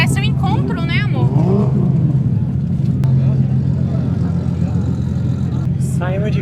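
Drift cars at a street drift event in Malaysia, engines humming and revving steadily in the background at a busy outdoor gathering, with people talking over the continuous motor noise.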